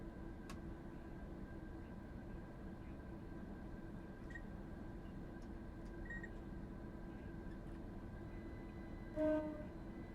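A steady, even train rumble from a Train Sim World video game train, originally from the Brighton Main Line, runs throughout with a faint tonal hum, broken by a brief higher squeal near the end.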